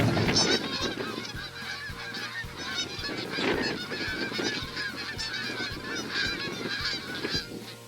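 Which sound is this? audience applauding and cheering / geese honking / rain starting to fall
geese honking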